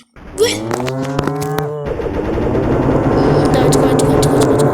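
A cow in a deer simulator video game moos loudly in a long, drawn-out call, followed by rapid machine-gun-like game fire and a steady noisy game din; a voice talks underneath.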